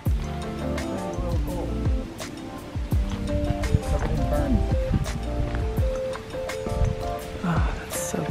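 Water trickles and splashes outdoors in Mendocino, a close, continuous burbling flow with scattered drips and gurgles throughout.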